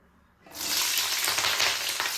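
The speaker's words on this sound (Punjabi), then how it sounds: "ਤੇਲ ਪੂਰਾ ਤਰ੍ਹਾਂ ਗਰਮ ਹੋ ਗਿਆ ਹੈ ਹੁਣ ਆਪਾਂ ਵਿੱਚ ਮਿਰਚਾਂ ਪਾਵਾਂਗੇ" Green chillies sizzle loudly in hot oil in a kitchen pan, starting abruptly about half a second in and then a steady, close crackling hiss with no voices.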